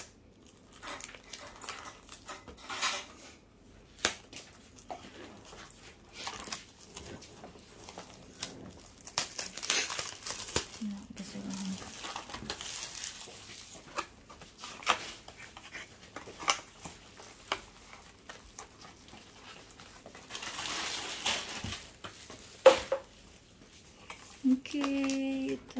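A One Piece card pack's packaging is cut open with scissors, giving soft, intermittent crinkles and crackles of plastic wrap at close range, with faint voices in the background.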